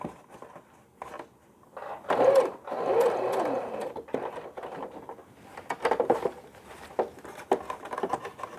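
Sewing machine stitching piping onto a smocked summer frock, running in short and longer whirring bursts with brief pauses between, close and clear.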